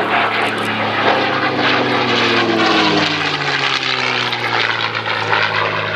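A P-51D Mustang "Jersey Jerk" propeller fighter at Sywell drones loudly and steadily throughout, its engine tones slowly sliding in pitch as it flies past.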